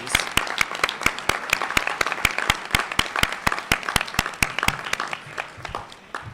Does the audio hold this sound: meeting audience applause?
yes